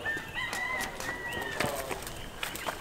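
Chickens clucking and squawking as they are chased, a busy run of short calls close by over steady outdoor background noise.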